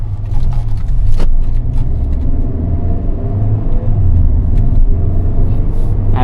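A 2025 Hyundai Creta N Line N10 with a 1.5 engine and DCT gearbox being driven, heard from inside as a steady low engine and road rumble with no talking.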